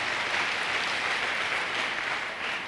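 An indoor audience at an MLM business training session applauding, a dense, even wash of clapping that holds steady at moderate volume for a few seconds.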